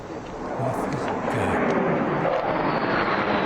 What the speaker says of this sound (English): we can hear jet fighters over their heads